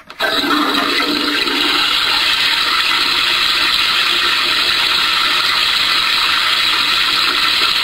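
A loud, continuous rushing toilet-flush sound from a toilet sound masker starts abruptly and runs steadily without pause, with a faint mechanical whir beneath it; no water is actually flushed.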